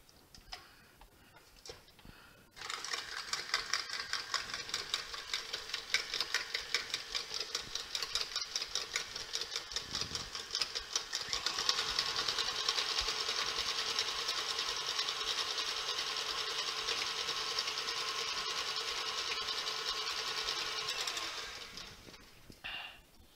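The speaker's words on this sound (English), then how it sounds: "Go ahead and put our mixer back on here." Electric stand mixer beating pumpkin pie filling with pumpkin pie spice and vanilla, a steady motor whir with a rapid ticking rhythm that starts abruptly, grows slightly louder and fuller midway, then stops, with no talking.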